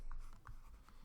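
Pen or chalk writing out a passive-voice sentence during a grammar lesson, heard as a few short scratchy strokes close up, with no talking.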